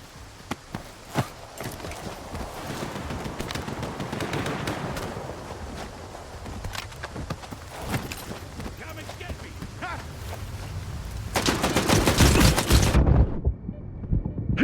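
Gunfire in the S.T.A.L.K.E.R. 2: Heart of Chornobyl video game, with sharp scattered shots over a rumbling backdrop and a louder dense burst near the end.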